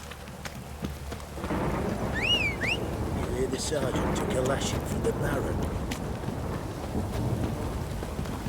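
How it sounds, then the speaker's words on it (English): Heavy in-game rainstorm in The Witcher 3, a steady loud downpour hissing throughout with rolling thunder rumbling underneath, while a character speaks over the storm. "This downpour's a bastard, it is."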